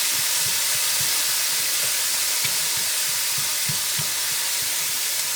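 Ground beef sizzling as it cooks in a pan for pasta fagioli, a loud steady hiss and crackle with soft stirring bumps underneath.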